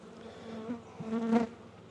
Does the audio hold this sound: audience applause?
no